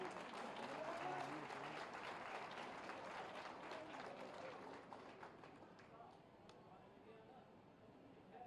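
A crowd at a government ceremony at Police Lines, Moradabad, where housing keys are handed to beneficiaries, keeps up a steady roll of distant applause while an announcer talks over it, the clapping thinning toward the end.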